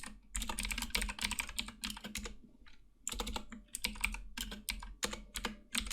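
Fast bursts of keystrokes on a computer keyboard while C++ code is typed, dense clicky clatter in two runs separated by a short pause, close and crisp with no talking.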